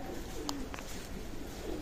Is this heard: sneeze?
no